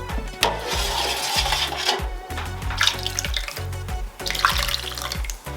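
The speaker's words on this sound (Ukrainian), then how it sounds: "М'ясні соки переливаємо в жаростійкий посуд" Lamb meat juices pour steadily into a heatproof dish with splashing and trickling, continuous for several seconds at close range.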